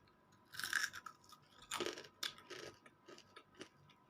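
Crunchy bites and chewing of crispy Seoul Chon fried chicken, several sharp close crunches spaced across a few seconds with quieter chewing between, no talking.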